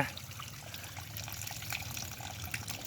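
Water poured through a cloth to wash ant eggs makes a continuous splashing trickle, close and fairly quiet, with small uneven surges and spatters.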